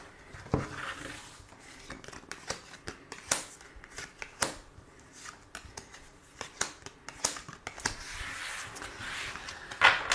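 Tarot cards shuffled by hand for a Aries monthly reading, a steady run of soft papery riffles and slaps at close range, irregular in rhythm, with no talking over it.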